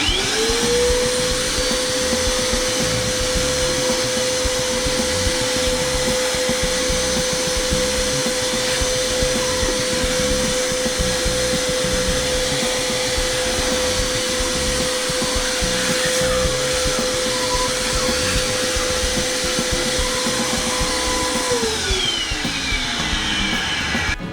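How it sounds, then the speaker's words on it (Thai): Cordless vacuum cleaner running steadily and loudly up close with a constant whine as it sucks up dust from a chair during a DIY refurbishing job, then spinning down at the end. "ดู ประสิทธิภาพของเจ้าเครื่องดูดฝุ่นตัวนี้ครับ"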